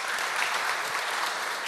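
Audience applause at a live geology science quiz show held in Bonn, steady dense clapping from a crowd filling the hall without a break for the short span.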